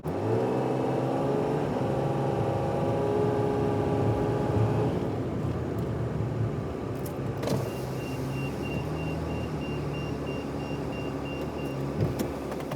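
A container-hauling truck rolls toward a loading zone with a steady, loud engine drone and road rumble, the engine tone shifting down midway and a few faint clanks near the end.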